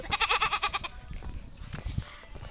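A girl imitates a sheep, giving a loud, wavering, bleating "baa" for about a second, then quieter rustling and faint sounds follow.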